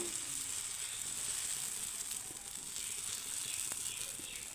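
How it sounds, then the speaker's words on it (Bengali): Batter for a wheat-flour breakfast snack spread in a hot pan, a faint steady hiss of sizzling with a few soft scraping touches, quiet and close. "একইভাবে আমি আর এক হাতা ব্যাটার দিয়ে দিব দিয়ে একটু একটু হালকা হাতে এভাবে আমি ঘুরে দেব"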